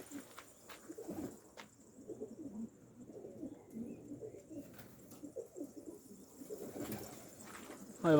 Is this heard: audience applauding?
no